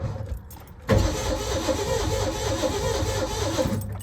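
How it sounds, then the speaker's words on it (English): Ford F-250 engine cranking over steadily after a starter solenoid replacement, a loud continuous mechanical churn that kicks in sharply after a brief quiet moment and runs for several seconds without talk. "Spins over a lot better. Bet it was the solenoid the whole time."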